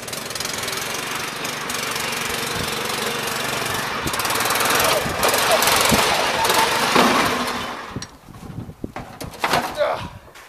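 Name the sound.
riding lawn mower engine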